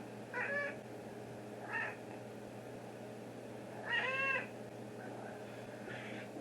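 A large male cat meows several times at moderate volume, three distinct calls spaced over a few seconds against a steady background hum, with no talking.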